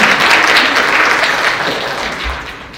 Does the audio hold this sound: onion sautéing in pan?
no